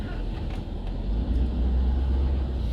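Road traffic heard from inside a classic car: a steady, heavy low rumble of engine and road noise that swells slightly, continuous and close, with no clear voices.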